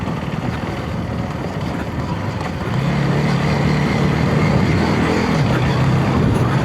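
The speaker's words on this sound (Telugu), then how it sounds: "బట్ మనం ఆఫ్ రోడింగ్ కూడా చేస్తున్నాం ఈ వెహికల్ మీద." A 2026 KTM Duke 250 motorcycle ridden off-road gives a steady engine drone mixed with wind buffeting, growing louder and fuller about halfway through, with no talking.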